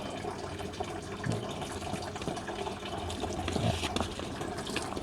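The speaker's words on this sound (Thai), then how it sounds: "น้ำผมใช้มันจะแรงประมาณนี้นะครับ" Steady, fairly loud water spray from a hose, used to wash the cooling coil of a 2012–2019 Isuzu All-New D-Max car air conditioner, gushing continuously with slight surges and no talking.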